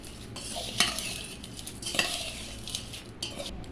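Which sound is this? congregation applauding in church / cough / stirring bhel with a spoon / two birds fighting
stirring bhel with a spoon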